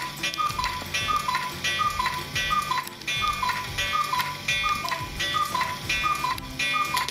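Cuckoo clocks ticking in a shop in Triberg: a steady, loud tick-tock beat repeats evenly throughout over a bright, tonal background.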